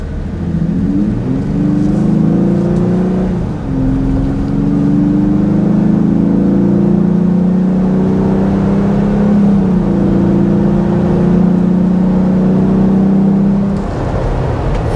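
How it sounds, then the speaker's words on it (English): A Jeep Gladiator with an aftermarket intake accelerates hard out of a turn, its engine droning loud and close with rising tones that climb through the gears, steady intake roar throughout, no speech. "I'm going to accelerate a little bit harder and let you guys hear what it sounds like here"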